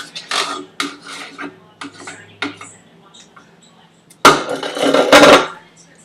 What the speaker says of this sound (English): so I'm just stirring my chili.